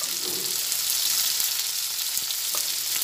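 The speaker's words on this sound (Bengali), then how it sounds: "দুটো দিয়ে একসঙ্গে সবজিটা ভেজে নিচ্ছি" Mixed vegetables for shukto fry in a pan with turmeric and salt. A constant oily sizzle runs throughout, with a few soft clicks of stirring and no talking.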